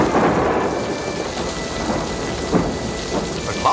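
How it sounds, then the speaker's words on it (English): Thunderstorm with steady heavy rain pattering on surfaces and low rolling thunder, a dense continuous wash of sound with no voices. "I think our rainstorm is about to blow over."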